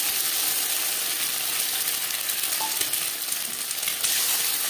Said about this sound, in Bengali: দু চামচ তেল গরম করে নেওয়ার পর দিয়ে দিলাম পেঁয়াজ কুচি।